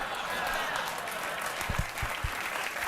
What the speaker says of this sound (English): I have to cut you short on that applause